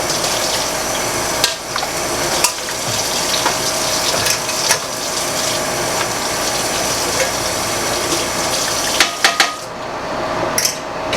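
Canning jars and their racks are rinsed under running water, a continuous rushing spray with intermittent glassy and metallic clinks as jars and racks are handled nearby.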